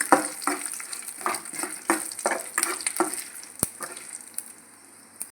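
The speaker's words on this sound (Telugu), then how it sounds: "పోపు వేగిపోయింది" Dried red chillies with cumin and curry leaves crackle in hot tempering oil, a close series of sharp pops and spits over a soft sizzle that thins toward the end.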